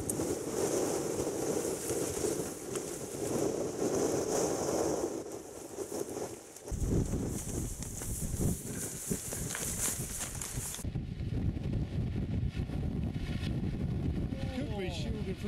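Extreme wind buffets a wild camp with tents, a loud, continuous roar with flapping gusts that keeps up throughout, while people talk beneath it.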